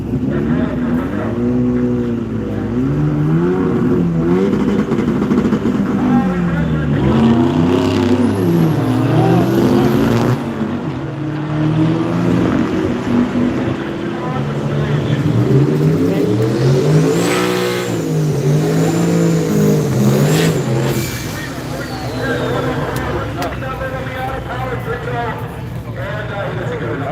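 A Corvette at a backyard-style duct tape drag race of beater cars, its engine revving repeatedly in rising and falling sweeps amid crowd chatter and other vehicle noise, loud and outdoors.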